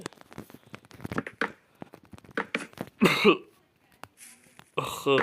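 A man coughs and clears his throat before starting work building a stone house, with two loud, rough bursts near the end. Scattered light clicks and taps come before them.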